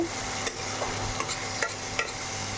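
Spices stir-fried in oil with a splash of water, a steady low sizzle with a few sharp scraping stirs close by, no talking.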